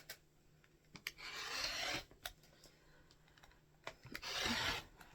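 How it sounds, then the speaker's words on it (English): Fabric for a quilt being cut against a ruler: soft rasping cuts in two longer strokes with scattered light clicks and taps between, quiet and close. "I'm going to cut 6 5-inch pieces."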